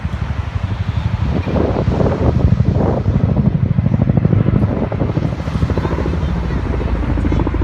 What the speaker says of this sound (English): you're going to really hear those 6 30-foot long blades